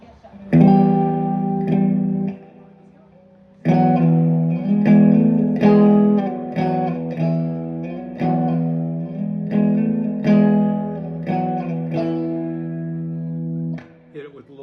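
Electric guitar through a distortion pedal (a Klon clone) plays loud, sustained chords and riffs with a gritty, saturated tone, pausing briefly once before continuing and ringing out at the end.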